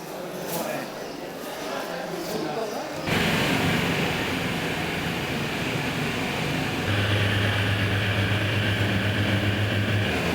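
A domestic passenger airplane takes off in Nepal, its engines swelling to a steady loud roar with a rising hum partway through, heard from inside the cabin as a continuous wash of noise.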